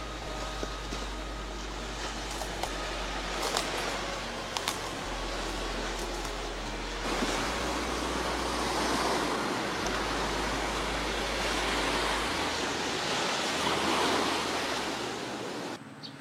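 Ocean waves break on a beach in a continuous rolling wash of surf, with deep rumbling swells and hissing spray and no voices.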